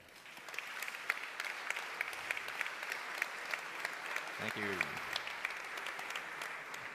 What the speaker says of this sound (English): I think that calls for a round of applause.